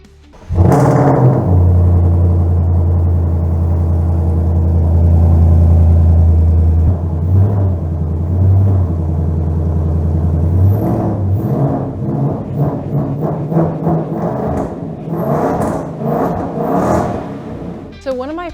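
A 2024-2025 Mustang engine fitted with a Steeda cold air intake, loud and close, with a deep steady idle rumble that breaks into a string of sharp throttle blips and revs toward the end.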